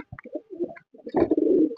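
Domestic pigeons at a pigeon farm give a few soft, low coos, then a longer, louder rolling coo that builds near the end. No one speaks.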